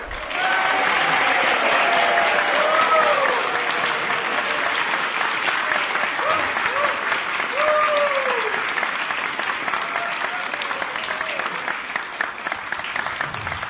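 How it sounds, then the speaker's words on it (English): A theatre audience applauds comedian Sonny Hatchett's entrance with loud, sustained clapping that fills the room evenly for over thirteen seconds, with a few whoops and cheers rising above it. "Would you welcome with a warm applause, Mr. Sonny Hatchett."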